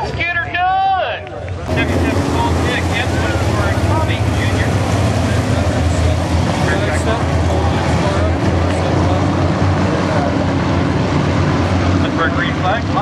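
IMCA modified race cars roar into a heat race start at Barona Speedway, a dense, loud, continuous engine drone filling the air after a brief opening voice.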